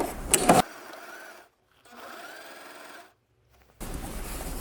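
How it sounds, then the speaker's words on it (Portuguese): A sewing machine stitches tricoline fabric in short runs, with a steady, close mechanical whir that stops and restarts between bursts. "facilita para que você consiga costurar numa máquina de costura comum"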